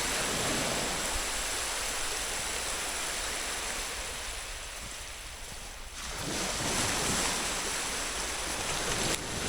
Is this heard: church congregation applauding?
no